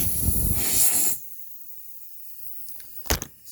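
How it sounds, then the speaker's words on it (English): An airbrush sprays paint and airbrush cleaner, a loud hiss for about a second before cutting off, then a few short bursts near the end. "Some paint and some airbrush cleaner running through there."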